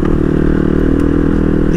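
A 2024 Kove FSE 450 Rally motorcycle rides along with a steady, loud, continuous engine drone and some mechanical clatter, with no talk over it.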